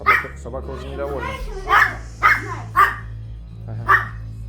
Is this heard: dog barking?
yes